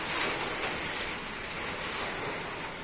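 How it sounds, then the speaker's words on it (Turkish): Continuous roaring wind of a storm outdoors, a broad steady rush with slight swells, loud and unbroken, with no one speaking. "Dışarıda fırtına var şu an sesini duyuyorsunuzdur."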